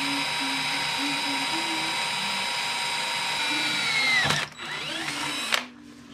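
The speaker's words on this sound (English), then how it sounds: "we're gonna start drilling holes through this outer core" A power drill whines steadily while drilling holes through a metal end cap of a motorcycle spark arrestor, then cuts off abruptly, followed by a brief second burst and quiet tool noise at close range.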